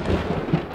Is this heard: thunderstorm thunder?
yes